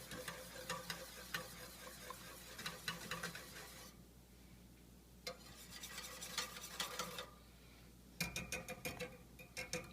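Whisk stirring a homemade organic yogurt mixture in a bowl, bursts of rhythmic scraping and tapping separated by quieter pauses, close and fairly soft, with no talking.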